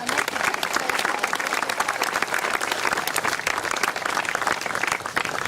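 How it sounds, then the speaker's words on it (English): An audience applauds a World War II veteran at a gathering honoring veterans, a dense, continuous round of clapping from a sizable crowd lasting several seconds at moderate loudness. "Let's give Bill a nice round of applause."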